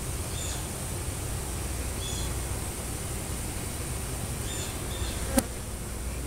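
A colony of honeybees just captured in a trap-out and being rehomed buzzes steadily close by, a continuous hum with a few individual bees passing near and a brief click toward the end.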